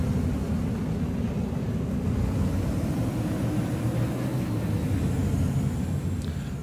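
A steady, loud, broadband roar from a spacecraft afterburner in a space flight video game runs unbroken throughout, with no voices over it.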